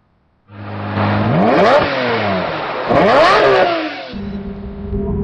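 A 2008 Lamborghini Reventon's 6.5-litre V12 engine starts from idle and revs hard twice, each blip rising and falling sharply, then settles back to a loud, close idle.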